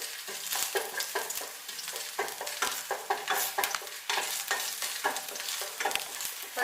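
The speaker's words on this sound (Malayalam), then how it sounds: "നമുക്കിനി ഇതിലേക്ക് ചെറുതായിട്ട് കട്ട് ചെയ്ത് വെച്ചേക്കുന്ന വെളുത്തുള്ളിയും ഇഞ്ചിയും കൂടി നമുക്കിതിലേക്ക് ഇട്ട് കൊടുക്കാം." Chopped garlic and ginger fry in hot oil in a pan, a steady broad sizzle broken by repeated sharp scraping stir strokes in an uneven rhythm, close and moderately loud with no talking.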